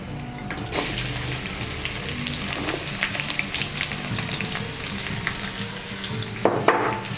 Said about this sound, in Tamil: சின்ன வெங்காயம் நல்லா கிளாஸ் மாதிரி வதங்கட்டும்.